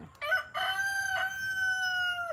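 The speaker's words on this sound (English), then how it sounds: "Oh, those are all my hens and roosters, Aiden." Hens and roosters in a coop at midday, with one rooster letting out a loud, drawn-out crow close by after a couple of short clucks, the call sliding down and trailing off.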